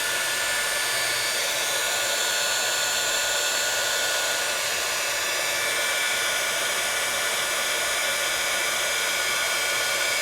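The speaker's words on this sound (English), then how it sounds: "I just bring my heat tool back and let's just start heating again." A heat tool blows a steady, even rushing whoosh of hot air over embossing powder on a craft project, constant in level and close for about ten seconds with no talking.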